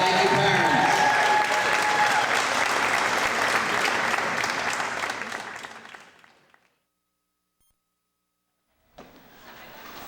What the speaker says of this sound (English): a big round of applause for our seniors